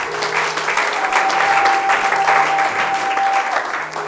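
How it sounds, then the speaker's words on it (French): A church congregation applauds in a sustained, dense wash of clapping that fills the room evenly, with a faint voice and a held tone under the applause. "Acclamons la gloire de notre Dieu."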